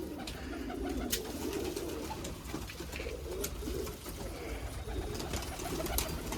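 Pigeons coo on a rooftop in Amritsar, soft overlapping rolling calls repeating through the clip at a low, steady level amid faint outdoor background noise.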